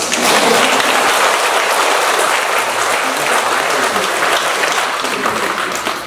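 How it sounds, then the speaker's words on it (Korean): Sustained applause from a large audience at a Catholic Legion of Mary training session in Chuncheon, steady dense clapping filling the hall for about six seconds and easing slightly at the end. "우리 영웅님들 박수 한번 쳐주세요."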